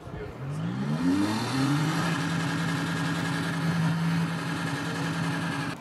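A Porsche 911 coupe engine rises in pitch as it revs, then holds a steady drone for several seconds, with people talking faintly in the background.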